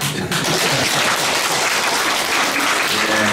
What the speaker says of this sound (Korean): 진짜 잘하라고 박수가 오는 것 같아요